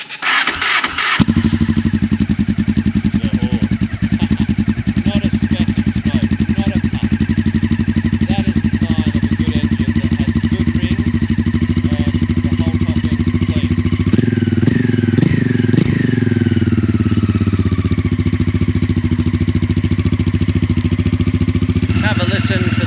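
A motorcycle engine starts on choke with a clatter and settles into a steady, chugging idle, with a brief throttle blip midway, close and loud throughout.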